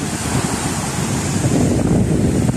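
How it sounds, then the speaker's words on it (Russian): Sea waves surge and wash ashore at Dzhemete beach in Anapa under a steady rush of cold wind buffeting the microphone, a continuous broadband roar that swells slightly louder toward the end. "Ветер холодный. Смотрите, какая волна."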